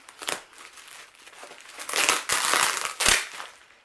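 Plastic bubble wrap protecting a craft-supply parcel crinkles and crunches as it is unpacked, in several close, loud bursts of rustling and crumpling separated by brief pauses.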